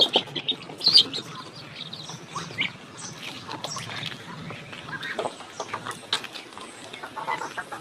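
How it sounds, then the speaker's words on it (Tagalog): Backyard chickens clucking and chirping on a morning farm, short irregular calls at close to moderate distance, with a few sharper bird notes and no talking. "Nakaunti na lang tong mga manok ko dito."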